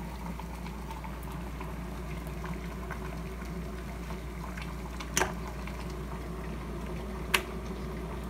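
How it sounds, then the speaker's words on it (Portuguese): Water boiling in a kettle or pot for brewing coffee at breakfast, a steady low rumbling bubble throughout with a couple of brief sharp clicks, fairly faint and close, no talk. "A água já ferveu."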